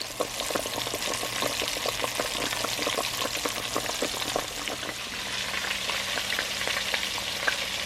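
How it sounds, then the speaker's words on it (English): Steady, dense crackling and sizzling of battered catfish fillets frying in hot oil, close and continuous with tiny pops throughout. "It's frying now."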